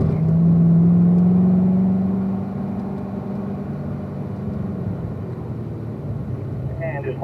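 Car accelerating hard out of a corner on a track, engine note rising loudly for about two seconds then settling into a steady drone, with a driving coach speaking over it.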